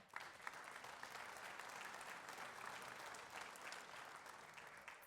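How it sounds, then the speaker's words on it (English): Faint, distant audience applause at an annual chamber of commerce awards celebration, a steady dense patter of many hands lasting several seconds without speech. "So give yourselves a round of applause as well."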